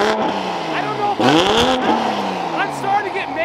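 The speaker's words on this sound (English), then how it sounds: "the exhaust sound just reverberates through your soul" A car in sport mode revs hard inside a warehouse, its loud exhaust rising and falling in several sharp bursts that echo off the walls, with a voice briefly heard alongside.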